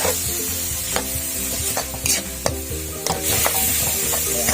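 A Thai spicy stir-fry crackles loudly in a pan as water is added, giving a constant dense sizzle broken by sharp spatula scrapes and clanks against the metal.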